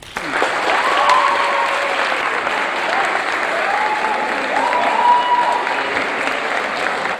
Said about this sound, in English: I want you to give your parents a big round of applause.